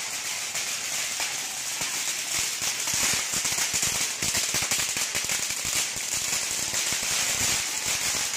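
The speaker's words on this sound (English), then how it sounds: "whoever had the idea to light up the fireworks in Walmart really let their intrusive thoughts win" Fireworks set off inside a Walmart store crackle and pop in a dense, continuous barrage of rapid snapping bursts, like firecrackers, steady and moderately loud for several seconds with a hissing wash over it.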